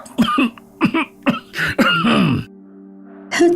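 A person coughs in a rapid series of harsh, close bursts, pauses briefly, then coughs once more.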